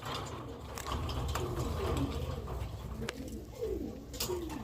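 Pigeons of the Madras breed cooing in a coop, with repeated low rolling coos layered over one another amid steady background noise, fairly close.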